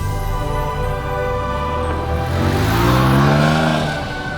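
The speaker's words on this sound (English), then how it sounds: "We're driving down a rally stage at the end of what's been one heck of an adventure." A Porsche 911 driving along a snowy rally stage in the Arctic Circle in winter, its engine droning steadily and then rising in pitch as it pulls harder, loud and close with no talking.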